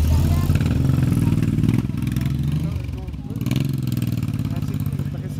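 A matte-black trike with a Desperados-style custom exhaust idles nearby with a steady, low rumbling throb that holds throughout, while people talk over it.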